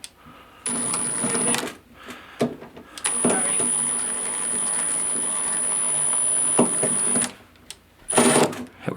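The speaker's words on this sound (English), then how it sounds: "industrial contractor grade screwdriver getting the job done" A contractor-grade power screwdriver, the wrong type for the screws, drives screws during a house repair: loud, close whirring bursts, a short one and then a long sustained run, with brief stops and restarts between them.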